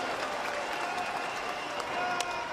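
A baseball stadium crowd of more than 17,000 cheers steadily, played back from a broadcast, a dense wash of applause and roaring voices with no clear breaks, rising slightly toward the end.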